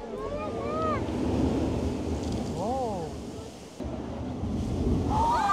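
Sea water surges along a coastal road in Mexico under strong gusting wind, a loud rushing roar that swells and buffets the microphone, with a voice calling out over it at moments.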